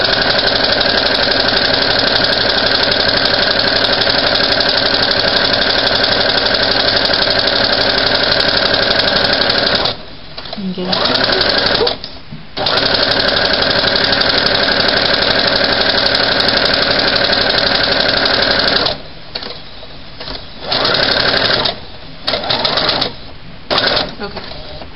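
A sewing machine stitches a second row of ruffle gathering with a loud, steady, close mechanical whir that stops briefly a few times and restarts.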